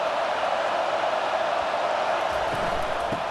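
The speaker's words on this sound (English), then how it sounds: "It is getting loud as this crowd tries to help its defense." Stadium crowd in the College Football 25 video game, at an Illinois vs Oregon matchup, building into a loud, steady roar that fills the whole stretch without letting up.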